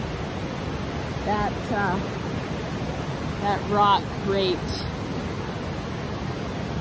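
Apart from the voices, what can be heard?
loud rushing Ashnola River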